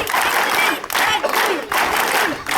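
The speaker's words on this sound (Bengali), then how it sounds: "সুন্দর করে আমরা করতালি দিয়ে ওদেরকে উৎসাহিত করি" A crowd at a school sports event cheering and clapping in loud, surging waves, with shouting voices blended into the applause.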